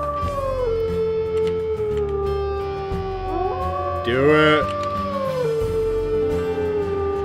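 Wolves in the WolfQuest multiplayer game howl together to rally, wavering tonal calls with a brief louder burst near the middle, while someone speaks briefly over the game sound.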